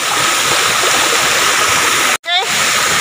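Waterfall at Lumondo in Alegria municipality, a loud steady roar of rushing water filling the whole clip, broken by a brief dropout near the end, with no talk over it.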